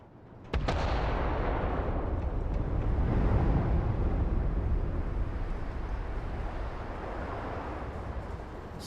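A detonation in the video game Starfield, a sudden heavy blast followed by a long, loud rumbling roar that swells and slowly fades over several seconds, with no talking.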